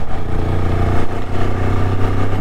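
A Kawasaki ER6n motorcycle with its stock exhaust runs steadily, a dense mid-pitched engine drone with a slight dip in the middle, continuous and fairly close, with no talk.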